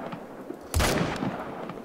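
M1 rifle fired at a female moose in a hunting video game: one sharp, loud report followed by a softer second blast and fading echo.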